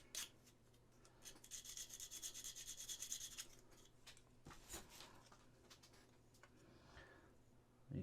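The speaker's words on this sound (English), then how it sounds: "we're gonna sand that down" Resin model kit piece being sanded by hand, a close, quiet scratchy rasp in uneven back-and-forth strokes, stronger at first and then trailing into lighter rubs and small taps.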